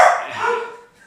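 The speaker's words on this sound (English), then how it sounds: "that's a dog and a cat" A house dog lets out a single close, loud bark that trails off quickly into a fading whine-like tail.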